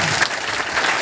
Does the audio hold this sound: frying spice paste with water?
no